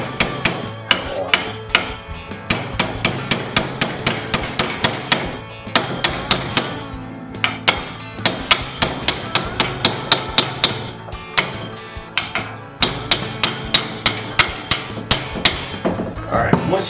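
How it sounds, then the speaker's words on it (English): Repeated sharp hammer blows on metal parts being fitted onto a bike stand, ringing and fairly close, struck in quick bursts with brief pauses between series. "We're going to hammer it"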